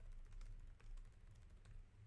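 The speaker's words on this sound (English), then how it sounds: "I saw Marcus typing." Quiet, steady typing on a computer keyboard, soft keys pattering in an uneven run under a low background hum, no voices.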